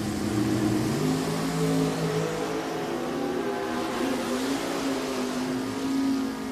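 Drag racing cars roar at Richmond Dragway, a Race Tech and an American Dragster lined up side by side, loud engines droning and revving steadily throughout with no voices.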